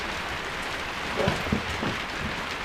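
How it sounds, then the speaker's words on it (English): Torrential rain pours onto a garden shed roof during work on a Hayter lawnmower, a dense, steady drumming hiss close by with a few louder splashes and no talking. "this weather's really coming now. She's absolutely torrential."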